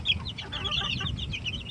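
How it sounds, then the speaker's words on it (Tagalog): Chickens and young chicks clucking and peeping close by before feeding, a busy overlapping chorus of short calls with no speech. "pakain tayo uli ng mga sisiw"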